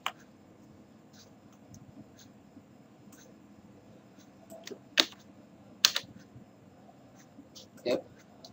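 Typing on a computer keyboard while working in Photoshop, with sparse, faint key clicks and a few louder taps scattered over a quiet room hum.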